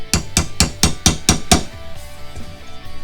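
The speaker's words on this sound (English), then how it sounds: "So I'll put a punch on here, right on the center, do a little hole," Seven sharp, evenly spaced hammer strikes drive a metal center punch into a piece of wood to make a starter hole for a wood lathe, then ringing fades into quiet shop ambience.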